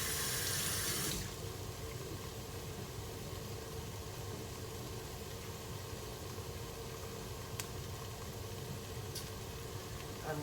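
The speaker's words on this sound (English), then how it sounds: "I'm gonna wash my hands real fast" Water runs from a kitchen tap while hands are washed during cooking, with a steady, broad splashing hiss throughout and a brighter gush at the start, faint and without talk.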